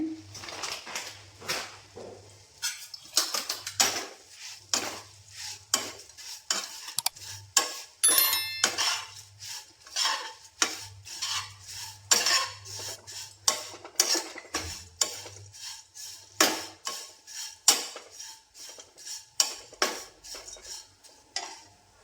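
Rice nylon poha being stirred and roasted in a pan with turmeric, a steady run of scraping and clinking utensil strokes against metal, close and fairly loud, with no voices.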